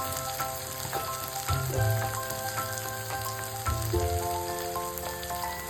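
Ridge gourd frying in a pan, a steady close sizzle and crackle with occasional stirring scrapes and clinks, alone with no voices.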